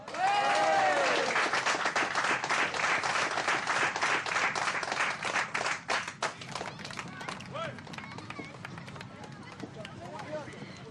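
Loud applause from an audience for a DJ at the turntables, dense clapping that fades somewhat after a few seconds, with voices and cheers mixed in.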